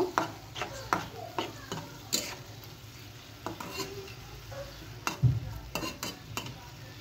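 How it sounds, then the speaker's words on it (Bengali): Fish frying in spiced oil in a pan is stirred with a utensil, giving repeated scraping knocks against the pan over a soft sizzle, with a heavier clunk near the end. "এখন আমি মাছটাকে নেড়ে নিব।"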